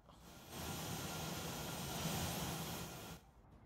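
Jet airliner arriving at an airport in a management game, a broad steady engine roar swelling in and holding for about three seconds before cutting off, with no talk.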